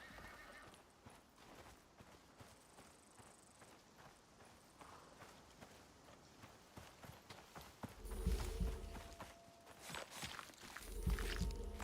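Horse hooves clip-clop at a walk in the video game Icarus, with a horse whinnying over a soft ambient bed. Louder hoof and movement sounds arrive near the end.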